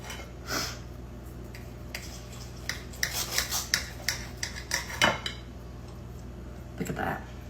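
Whisk scraping and tapping in a pot of thickening sauce: soft irregular clinks and rubbing strokes, close and fairly quiet, with a brief burst of quicker whisking in the middle.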